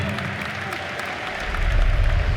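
Audience applause in the arena for Ace and Gaimin Gladiators at The International 2024 Dota 2 semifinal, a steady wash of clapping and crowd noise that swells louder toward the end.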